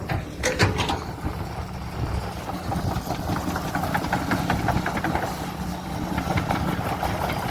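A Kobelco SK140-8 excavator digging clay to repair a leaking embankment gives a steady, loud diesel rumble with knocking and rattling clanks throughout, close by and without talk.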